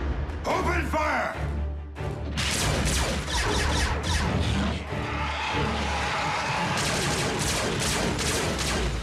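Laser-style blaster fire bursts out in a rapid, dense fusillade during a Transformers Prime cartoon battle, loud and close, with crashes, mechanical clanks and shouting voices mixed in.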